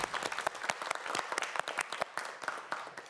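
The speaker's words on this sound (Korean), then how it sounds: "조성지 학생에게 큰 박수 부탁드립니다." A studio audience at a televised quiz show applauds a student contestant, a short burst of brisk, crisp clapping that stays fairly close and even before fading slightly.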